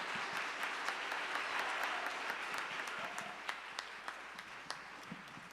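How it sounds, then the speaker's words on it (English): Audience applause at a Martin Luther King Jr. Unity Day event in Seattle, a steady wash of many hands clapping that thins out toward the end, leaving a few distinct claps. "please, a round of applause for our native recognition"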